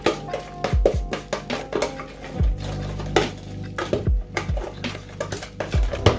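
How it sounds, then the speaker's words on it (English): A spoon scrapes and clinks against a bowl, stirring soy sauce and sugar into a char siu marinade in quick, irregular strokes with metallic rings, close and fairly loud, with no talking. "Now add 1 tablespoon of sugar. Now, just mix it in."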